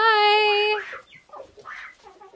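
A single chicken gives a drawn-out, wavering call, followed by a few softer, scattered clucks close by.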